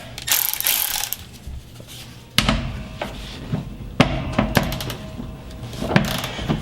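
Sharp mechanical clicks and clacks from a Milwaukee power tool working on the seat bolts of a Chevrolet C10 truck, with several distinct bursts spread through the clip, close by with no talking.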